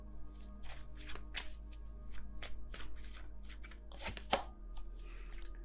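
Tarot cards shuffled and drawn by hand, a series of crisp riffling and snapping bursts in an irregular rhythm, close and fairly quiet against a low steady hum.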